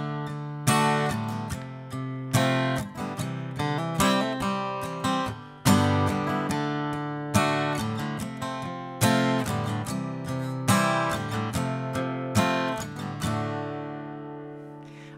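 Acoustic guitar strums the basic groove of a song, rhythmic chord strokes with plucked accents repeating in a steady pattern, close and clear with no voice, for about fifteen seconds before ringing out.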